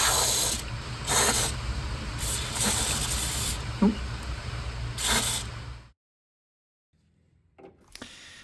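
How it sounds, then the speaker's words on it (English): Aerosol lanolin spray from a thin nozzle is applied in car body cavities during an inner A-pillar repair, heard as several close, loud hissing bursts of uneven length, then silence and a faint clatter. "So I'm going to spray in some aerosol lanolin."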